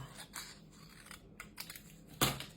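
Scissors snip through scrap card during stamping and foil crafting, giving a few quiet crisp cuts and one sharper, louder snip near the end, all close and without talk.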